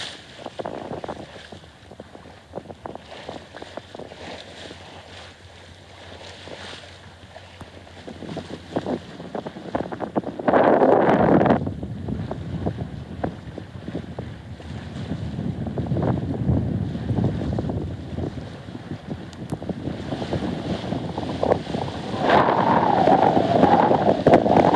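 Sailboat under way at about six knots off Marseille toward the Frioul islands, with a broad wash of wind and water rushing against the hull, steady and moderately loud, swelling in gusts, no voices.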